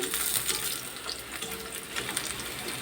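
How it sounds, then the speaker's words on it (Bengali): Onions and garlic frying in a pan give a steady, soft crackling hiss with faint watery sputters, continuous and fairly quiet throughout. "সেগুলো এখন দিয়ে দিব যে পেঁয়াজ রসুনটা বেজে নিচ্ছি"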